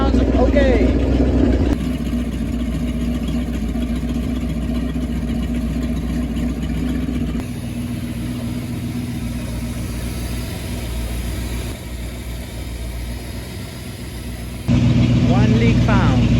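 A rebuilt Mercruiser engine runs inside a Mariah Z241 Davanti boat, a continuous low idling drone with steady mechanical hum that shifts level in segments, a voice speaking over it at times.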